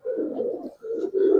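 Giribaz coloring pigeons coo in a soft, low, continuous burble, briefly pausing once before the throaty cooing resumes.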